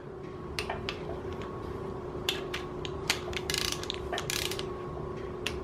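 A ratchet torque wrench tightens LS1 crankshaft bolts on an engine block, producing bursts of sharp, close clicking spread irregularly across a few seconds.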